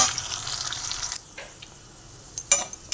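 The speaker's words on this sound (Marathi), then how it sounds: "बघा परतून घेतली" Sabudana khichdi made with tapioca pearls is sautéed in a pan on a gas stove: a steady sizzling hiss drops away, then a few sharp scraping and clattering stirs follow.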